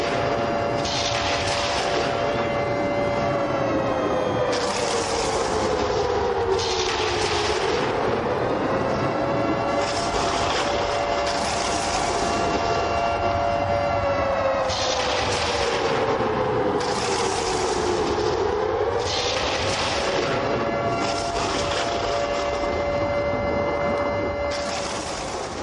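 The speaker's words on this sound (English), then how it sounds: "Let the siren play." An arena siren wails after a tying kick in a St. Louis Archers vs Pittsburgh Roughnecks football game, its loud tone sliding down and back up in repeated cycles over steady crowd roar.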